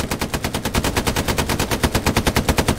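Rapid automatic gunfire from a tank in the Hell Let Loose World War II game, aimed at an enemy half-track. It is a loud, steady stream of evenly spaced shots with no pauses, close up and alone.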